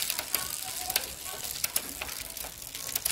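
A Windrider 300 road bike's rear derailleur shifts across a 7-speed cassette, giving a string of sharp metallic clicks over a steady whirring hiss of the spinning drivetrain, close and moderately loud.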